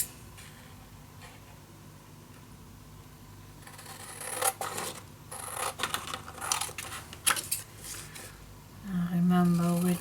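Scissors snip and rub through a paper template during a scrapbook mini-album craft session, with quiet handling first, then a run of crisp cuts and rustles in the second half and a brief low hum near the end.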